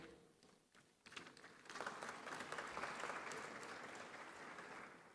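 Audience applause welcoming panel speakers onto a stage at a bank's annual meetings panel on African food security; begins with a few scattered claps, then swells into steady, full clapping that holds.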